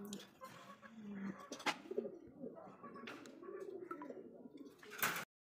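A king pigeon coos nearby in soft, repeated rolling calls, with a few sharp clicks and rustles between them.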